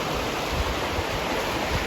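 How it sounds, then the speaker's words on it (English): Sinking Creek rushes past a bridge near pastures, a steady close hiss of flowing water filling the short moment with no voices. "This apparently is called Sinking Creek."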